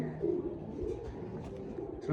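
Fancy pigeons at a market stall give low, throaty coos and soft rumbling calls close by, overlapping with someone speaking.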